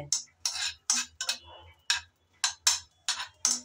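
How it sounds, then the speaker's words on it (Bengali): Spoon scraping and clinking against a pan while bottle gourd is stirred and fried in a little ghee, a steady run of sharp strokes every half second or so, close and fairly loud. "সামান্য একটু ঘিয়ের মধ্যে নেড়ে চেড়ে ভেজে নিলে হয়ে যাবে।"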